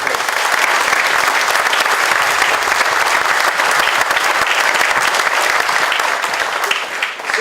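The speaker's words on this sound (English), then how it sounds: "So a round of applause for all of our VFW" A crowd applauds VFW and American Legion members at an outdoor Memorial Day ceremony, with dense, sustained clapping for several seconds that tapers slightly at the end.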